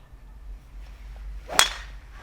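A single sharp crack as a golf club strikes a ball on a golf course, a push-draw drive, loud and close against a quiet outdoor background.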